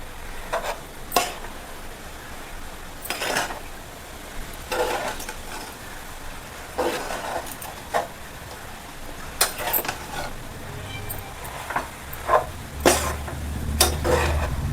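Vegetable noodles with capsicum and carrot stirred in a pan, with repeated scraping and tossing strokes sounding in irregular bursts over a steady low sizzle, close and fairly loud.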